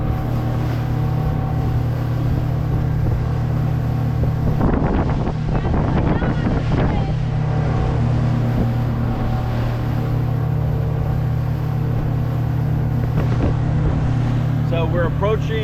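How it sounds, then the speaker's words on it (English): A motorboat on the Intracoastal Waterway slaps through waves, a steady loud engine drone and wind buffeting the microphone, with bursts of splashing and hull thumps rising above the constant roar. "we're actually playing on the water now, hitting a lot of waves"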